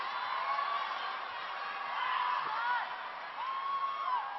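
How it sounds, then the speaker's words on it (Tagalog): A capacity crowd at the Mall of Asia Arena during a La Salle volleyball game, a steady distant roar of cheering and whoops, even and sustained, with a voice commenting faintly under it. "this capacity crowd at the Mall of Asia Arena"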